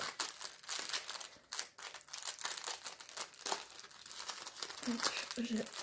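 A small plastic sachet is crinkled and worked open up close, giving irregular crackling rustles, with a voice heard faintly alongside.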